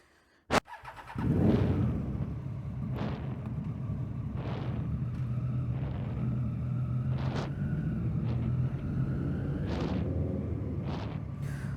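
A 2015 Triumph Daytona 675R, a 600cc-class supersport motorcycle fitted with an Arrow exhaust, fires up with a sharp click and catch, then idles close and loud with several crisp blips of the throttle rising and falling, no voices.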